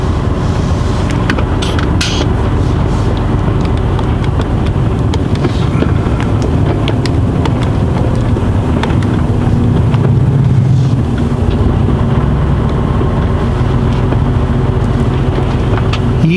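Car driving slowly past a petrol station, engine rumbling steadily up close with wind buffeting the microphone and occasional clicks and knocks inside the cabin, continuous throughout.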